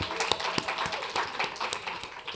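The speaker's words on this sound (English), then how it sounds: "Let's give another warm round of applause for Miss Mari Elizabeth Blunt." Applause from an audience welcoming a guest onto a stage, heard as a dense patter of individual claps spread evenly through the moment, moderately loud and fairly near, with no talking over it.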